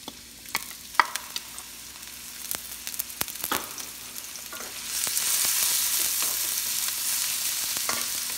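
Onions sautéing in olive oil for pork igado, a steady sizzle that swells louder halfway through, with scattered utensil clicks and stirring and no voices.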